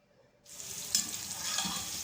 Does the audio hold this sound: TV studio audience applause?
no